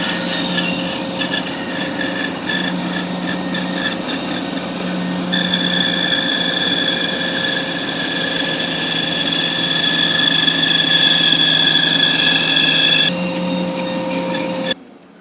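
A small bandsaw runs steadily while cutting curves in a piece of wood, a loud continuous whining hum with shifting tones that stops abruptly at the end.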